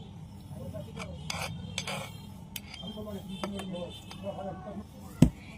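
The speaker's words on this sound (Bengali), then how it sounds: "দইয়ের সাথে আমটাকে চামচের সাহায্যে খুব ভালো করে মিশিয়ে নেব" A spoon stirs mango-sugar paste into strained yogurt in a bowl, giving soft repeated scraping and light clinks against the dish, with a sharper knock near the end and a faint voice underneath.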